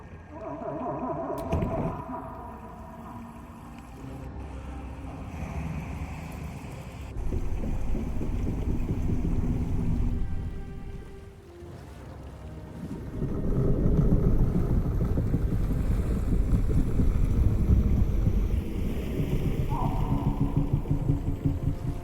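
A raft in Baldur's Gate 3 moves across the water with a rushing, wind-like swell that builds in loud waves and fades between them, over faint background tones.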